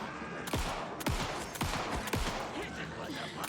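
Rapid gunshots in the survival-horror video game Alan Wake II, four or five sharp loud bursts spaced about half a second apart over a dense rumbling game soundtrack.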